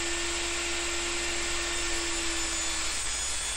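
Table saw cutting wooden plugs free from a board, a steady loud whine with a constant tone that holds for about three seconds and then shifts as the cut finishes.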